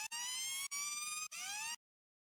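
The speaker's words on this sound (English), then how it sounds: "there's a siren FX running in the background to add even more tension" Siren sound effect layered into a trap music track: three rising-and-falling wailing sweeps with short gaps between them, loud and alone, then sudden silence.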